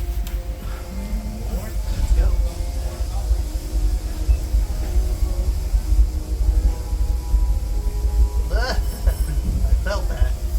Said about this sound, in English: Welcome aboard Disneyland Railroad.